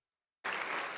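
Applause at a county awards ceremony bursts in abruptly after near silence, then continues as steady, even clapping from the crowd.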